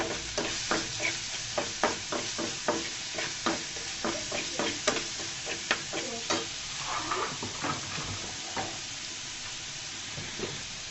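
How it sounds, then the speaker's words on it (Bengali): Carrots frying in oil with steady sizzling under repeated rhythmic stirring scrapes, close and fairly loud, no talking. "গাজরগুলোকে দিয়ে আমি সুন্দর মতো 5 মিনিট মতো ভেজে নিব তেলের মধ্যে।"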